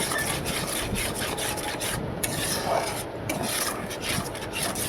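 A spoon scrapes and rubs steadily through salted spice masala with chilli powder in a pan, a continuous close gritty stirring for a prawn dish, with no talk.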